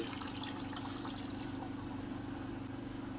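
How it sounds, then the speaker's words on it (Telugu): Water pours steadily from a glass into a pan of chicken curry in a continuous trickling stream, close by and fairly quiet, with a low background hum. "ఒక గ్లాస్ నీళ్లు వేసుకోవాలి"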